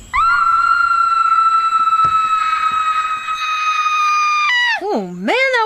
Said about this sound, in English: that white girl can scream